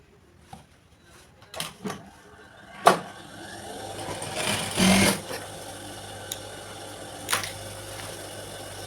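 A sewing machine stitches a pocket onto a high-school skirt in short bursts, with a longer continuous run midway and scattered clicks and thumps of handling the fabric, close and moderately loud.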